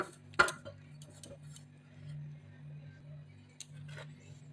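A large, long potato being cut with a knife, a few sharp crisp snaps and clicks against a board, separated by quiet pauses over a low background hum.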